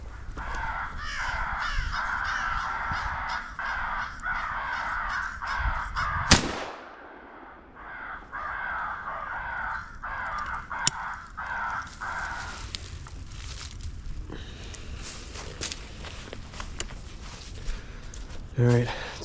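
Crows caw repeatedly in a field setting during a hunt, harsh calls in steady runs at moderate distance, broken by a sharp loud bang near the middle before more cawing continues.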